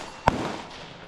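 A single sharp airsoft gun shot at a firing range, one close crack followed by a short fading echo, alone with no voices.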